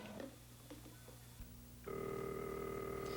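An old telephone in a 1978 children's television scene sits quietly, then bursts into a steady, sustained ring that continues to the end.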